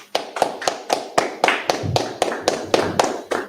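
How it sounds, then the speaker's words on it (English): People clapping hands together in a steady rhythmic beat, about a dozen sharp, evenly spaced claps close by, with a brief low voice partway through. "clap it up"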